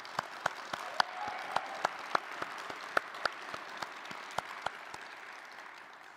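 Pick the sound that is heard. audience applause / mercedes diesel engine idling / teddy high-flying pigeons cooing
audience applause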